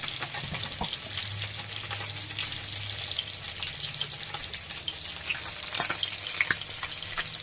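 A dried red chili sizzles as it tempers in hot oil, a steady close hiss and crackle running throughout with a faint low hum beneath, no voices.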